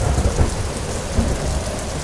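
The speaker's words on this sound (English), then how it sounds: "there was a loud clap of thunder, and big raindrops started to fall from the sky." Cartoon storm with thunder and heavy rain: a dense, loud roar of downpour with deep rumbling thunder underneath, filling the whole stretch without any talking.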